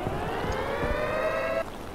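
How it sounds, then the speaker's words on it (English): A town warning siren wails at a steady tone during rain, with patter and thumps underneath, before the siren tone abruptly cuts off near the end. "That's the siren in town."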